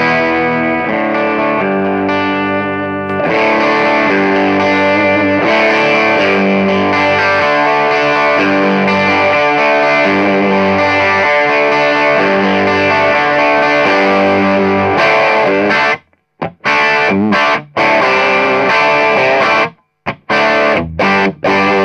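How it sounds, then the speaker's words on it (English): A Fender Telecaster plays through a Rothwell F1 booster pedal into a Buddha Superdrive 18 amp, giving a loud, sustained overdriven guitar chord that rings on. Choppy, stopped strums close it out. "Going to use a Fender Telecaster, Buddha Superdrive 18. And a Rothwell F1 booster."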